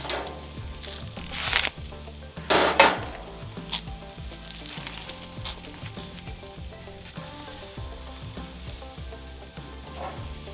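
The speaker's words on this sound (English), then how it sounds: "Since I got all this space, I'm going to throw these burgers on the side." Pre-made burgers sizzle steadily on a Mesa 400 grill, with a close, continuous frying hiss and a few louder crackling bursts near the start.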